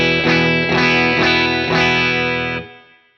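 Four distorted guitar chords strummed through an amp with extra pedal gain, each ringing out before the next, the last one sustaining and fading away; loud and close, with no voices.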